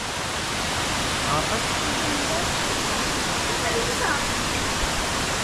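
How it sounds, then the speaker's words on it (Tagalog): A forest waterfall roars steadily throughout as a dense, unbroken rush of falling water, close and loud with no pauses. "Ay, ito yung falls pa rin, oh."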